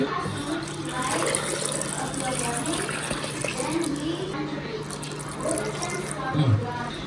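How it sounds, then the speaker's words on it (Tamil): Water pours softly into a pot over pearl millet balls, a gentle splashing stream running beneath people talking nearby. "இப்போ இந்த உருண்டை முழுகிற அளவுக்கு தண்ணி ஊற்றணுமாங்க?"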